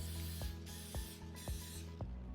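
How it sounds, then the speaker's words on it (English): Cooking oil spray mists onto a muffin tin before hash browns go in, in four short hissing bursts at a steady pace. Each spritz is close and clear over a low background hum. "I'm gonna take some oil spray and just lightly coat each muffin tin"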